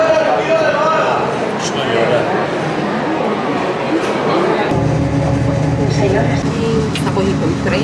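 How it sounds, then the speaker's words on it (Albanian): A steady rumble of a train riding toward Seville in Spain, continuous rolling noise inside the carriage that drops lower partway through, with people talking nearby. "Sa po hikim trenit, po hikim për Sevilla."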